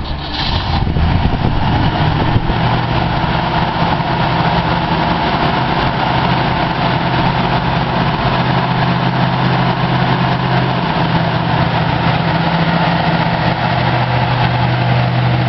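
A 1957 Chevrolet 150 two-door engine idles loud and close, a steady low rumble that stays even throughout with no talking.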